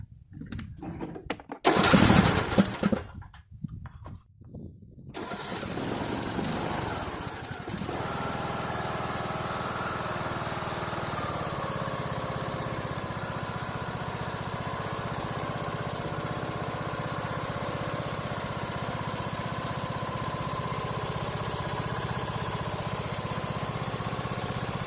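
A Craftsman T1400 lawn tractor engine cranks and catches after a few rough starts, then settles into a steady, loud idle that drones on alone for the rest of the stretch.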